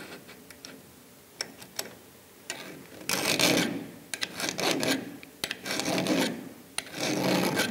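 Repeated rasping strokes of a file sharpening a saw chain in short bursts, separated by light ticks and clicks.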